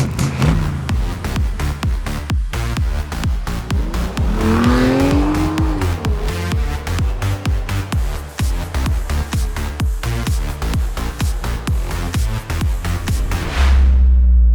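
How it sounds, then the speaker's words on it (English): A Dubai police supercar drives at speed, its loud engine revving up and down through shifting pitch with tire noise, dense and continuous with no talking. "Dubai's police department uses supercars as patrol vehicles to entice tourists."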